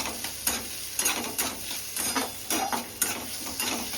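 Steady sizzling of onion sautéing in a pan for pasta, with a rhythmic scraping as it is stirred every half second or so, close and moderately loud, no voices.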